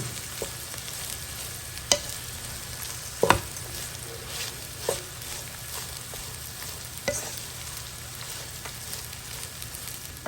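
Rice frying in a pan hisses steadily while a spoon stirs and mixes it, with a few sharp scrapes and taps on the pan standing out at intervals.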